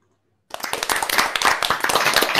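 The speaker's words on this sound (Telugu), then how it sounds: "నెక్స్ట్ హ్యాపీ క్లాప్స్ కొడతావా" Children clapping hands at a kids' club session, a quick run of sharp, close claps starting abruptly after a brief silence and continuing in a fast, slightly uneven rhythm.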